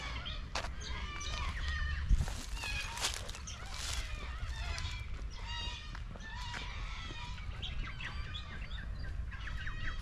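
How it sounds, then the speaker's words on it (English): Birds chirping beside Lake Claremont, a dense chorus of overlapping tweets and calls filling the air continuously, fairly close, with a brief knock partway through. "There's a few more birds."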